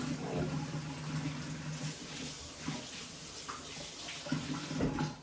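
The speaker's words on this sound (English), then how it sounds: "One second, I gotta wash my hands." Running tap water splashes over hands being washed clean of salmon juice while making sushi, a steady close hiss with brief splashy bursts and no talk.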